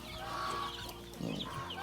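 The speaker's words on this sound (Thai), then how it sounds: "นี่ไก่เล็กที่เราออกมาเมื่อวานนี้เองนะครับ" Young chicks on a farm, among them Australorp and Rhode Island Red, cluck and peep in a close, busy cluster, with a louder burst of clucking near the end and no talk.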